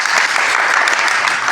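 Audience applause at a Maheshwari community multi-purpose camp, a steady dense wash of clapping from many hands, loud and continuous throughout.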